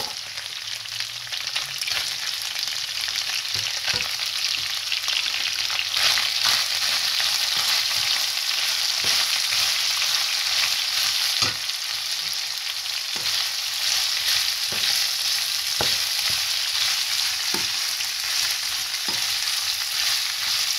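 Chopped onions fry in olive oil with a steady, dense sizzle that runs unbroken throughout, broken by occasional sharp clicks and scrapes from stirring.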